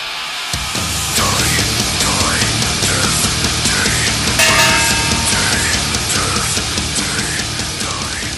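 A full-band rock ballad recording with steady drums and layered instruments, loud and continuous throughout, with melodic lines rising and falling over a dense backing.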